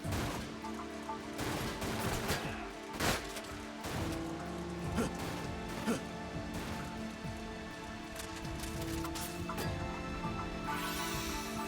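Gunfire in the video game Dirge of Cerberus, irregular bursts and single shots with crashing impacts over a faint, noisy background, fairly quiet overall.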